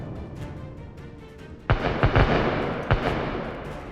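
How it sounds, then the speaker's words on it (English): Cluster bombs burst over Russian troops in trenches: after a low rumbling lull, a quick volley of sharp, heavy blasts cracks out in close succession, followed by another single boom and lingering rumble. "the Ukrainian military begin to cover them with cluster bombs"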